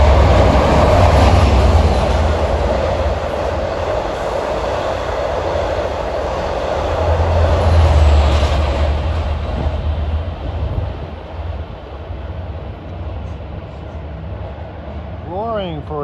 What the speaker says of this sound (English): here comes the Z train 8018AX for Ronkonkoma